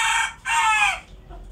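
A Tân Châu bantam rooster with dark reddish plumage, strawberry comb, wattles and yellow legs crows twice, loud and close, the second crow longer and falling at its end.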